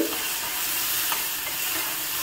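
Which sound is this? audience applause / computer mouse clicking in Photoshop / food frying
food frying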